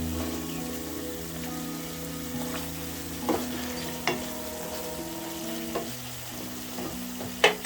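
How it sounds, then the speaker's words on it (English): Chicken pieces being turned in a pan of tomato stew: a steady bubbling simmer with soft clicks and scrapes of a utensil against the pan, close and moderately quiet, no voices. "So I'm going to be turning the pieces."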